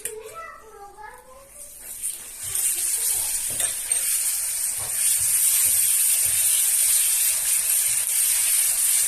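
A spoonful of butter hisses and sizzles in a hot pan while trileçe is being made, a steady loud fry that builds after a voice speaks briefly at the start.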